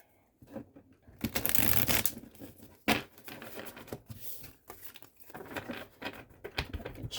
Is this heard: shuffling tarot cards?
yes